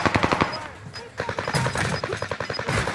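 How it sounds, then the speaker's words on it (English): Rapid machine gun fire in a video game, loud, close bursts of sharp evenly spaced shots with a short pause near the one-second mark, faint voices underneath. "There's a machine gun over here!"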